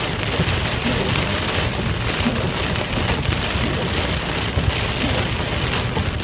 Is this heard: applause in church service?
no